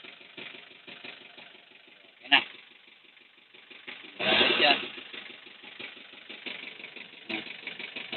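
A small engine with a misfire and white smoke idles with a steady rapid chugging, joined by brief clanks and a louder burst midway, while people talk nearby.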